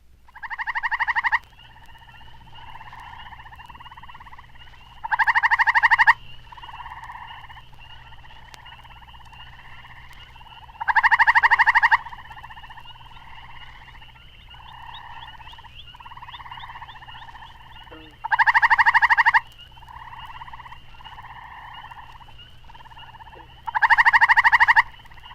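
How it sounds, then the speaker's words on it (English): Common tree toads (Hyla versicolor) give loud, startling trills at regular intervals, each burst a few seconds long, against a steady background chorus of softer, pulsing frog calls on a warm night. "The common tree toad, Hyla versicolor, a larger species, also is found throughout eastern United States and Canada, but its startling trill is seldom heard before the nights are warm."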